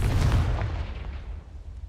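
Confringo blasting spell cast in Hogwarts Legacy, a single deep, booming blast at the start that rolls off and fades over about two seconds, with no voices.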